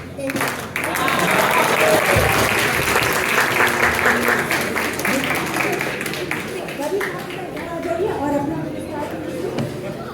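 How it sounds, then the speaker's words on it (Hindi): Loud, sustained applause from a large audience at a World Hindi Day celebration, continuous clapping filling the whole stretch with a dense, steady roar. "ये तालियों की गड़गड़ाहट बता रही है कि आप सब कितना आनंद उठा रहे हैं"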